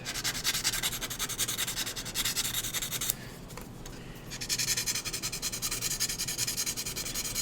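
A sanding stick is rubbed across plastic card in steady, close back-and-forth strokes, with a brief pause partway through before the rhythmic scraping resumes.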